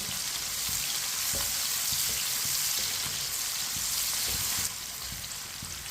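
Finely chopped onion frying in a pan with cinnamon for kala chana, a dense continuous sizzle with soft stirring knocks, steady and close, dropping slightly in level near the end.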